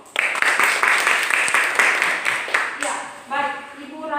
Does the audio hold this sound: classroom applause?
yes